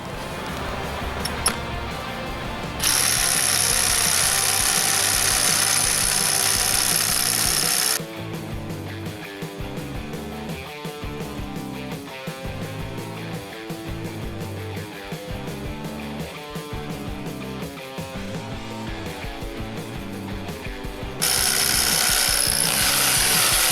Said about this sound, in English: Now I'm going to go ahead and drill a hole all the way through this cinder block wall.